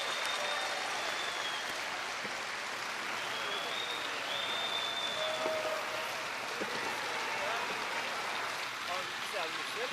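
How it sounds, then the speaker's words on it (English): Sustained crowd applause fills the Orleans Arena during a men's world curling championship match, with many Canadian fans present. The dense, steady clapping runs for the full stretch, and a commentator's voice sits faintly beneath it. "Brad Gushu getting the applause here at the Orleans Arena"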